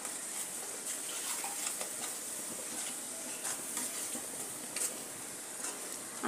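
Powdered masala is stirred into misal curry in a pan, a steady soft sizzle and bubbling with faint scraping throughout, quiet and continuous.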